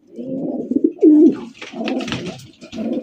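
Several pigeons, including a red Shiraji male, coo close by in low, throaty, overlapping bursts, with one sharper rising coo standing out partway through.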